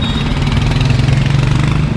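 Car engine humming steadily during a driving lesson with gentle, slow acceleration, a close, even drone with a faint pulsing rhythm and no speech.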